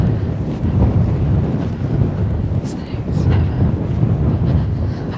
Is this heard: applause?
no